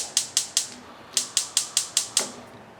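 Piezo igniter on a gas stove in a 2021 Riverstone 3950FWK travel trailer, clicking sharply about nine times in quick, fairly even succession, close and moderately loud, with no flame catching and no talking.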